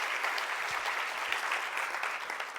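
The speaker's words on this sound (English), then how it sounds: "whenever we introduce an equation of the week, everybody claps" A lecture class claps together in a brief, even round of applause, soft and steady throughout with no voices on top.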